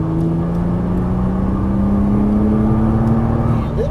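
A car accelerates hard down a track toward a line of cones, its engine a loud, close, steady drone with pitch rising smoothly through the gear.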